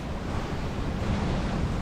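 Rough ocean waves of about 2.5 meters strike a sailboat on an open-water passage toward a remote atoll, a steady loud wash of surf and wind noise with no pause and no voices.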